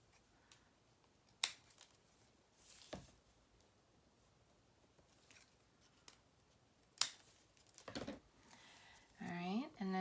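Scissors snip through raffia ribbon for gift bag handles, a handful of crisp, separate cuts close by with quiet rustling between them and a brief higher tone near the end.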